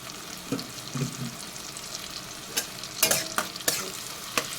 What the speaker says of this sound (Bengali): মশলাটাকে একটু ভালোভাবে কষিয়ে নেব